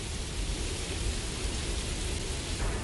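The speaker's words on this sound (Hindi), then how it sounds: "बारिश तो बहुत बढ़ गई है।" Dense, steady roar of heavy rain in an anime episode, constant and enveloping with no breaks.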